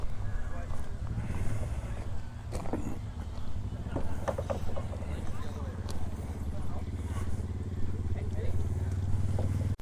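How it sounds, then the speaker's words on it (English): A farm tractor hauls two passenger trams toward a corn maze at an orchard, its steady engine drone rumbling close throughout while people talk over it. "As the driver loads into the tractor to pull the two trams on down to the corn maze"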